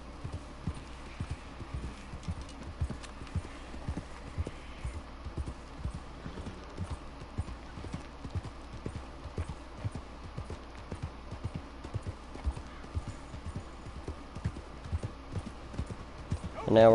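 Steady clip-clop of wild horses' hooves at a walking pace in Red Dead Redemption 2, evenly rhythmic and fairly close, with faint background ambience and a brief louder sound at the end.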